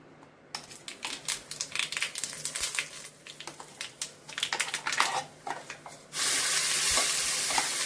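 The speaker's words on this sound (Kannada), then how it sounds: "ಒಗ್ಗರಣೆಗೆ ರುಬ್ಬಿರೋ ಚಟ್ನಿನ ಹಾಕೋದು" Coarse ground amaranth greens chutney is stirred and scraped into a hot tempering in rapid, crunchy strokes, then breaks into a loud, steady sizzle close by.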